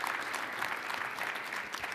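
Panelists receive audience applause at a live event at the Seaport Hotel in downtown Boston, a steady, fairly faint sustained clapping from a room of people.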